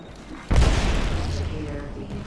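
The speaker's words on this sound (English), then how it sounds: "Oh, grenade!" A grenade explosion in a video game bursts suddenly with a deep, loud boom, then rumbles and decays over the next couple of seconds.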